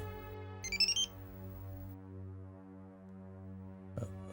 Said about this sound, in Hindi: आ गया सिंघानिया साहब का फोन